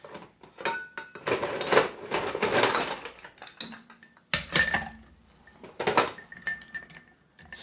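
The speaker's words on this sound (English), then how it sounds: "I'm going to give the ingredients a little stir and then add some ice." Negroni ingredients and ice are stirred in a glass, giving bursts of clinking and rattling that come and go, with short pauses between the stirring spells.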